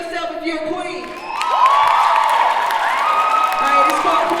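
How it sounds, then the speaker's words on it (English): Crowd at a live hip hop show claps and cheers loudly, with whoops rising over steady applause while a performer's amplified voice carries on through the noise. "Clap for yourself if you're a queen."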